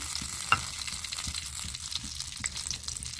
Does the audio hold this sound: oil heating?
yes